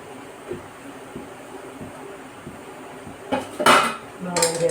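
Metal clinks and clatters as an idli steamer pot is handled while loading puttu, soft regular taps giving way to louder clanks and rattles toward the end, close by in a kitchen.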